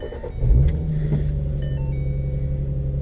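A car engine in cold winter weather settles into a steady low idle rumble after a brief surge at the start, close and continuous with no talking.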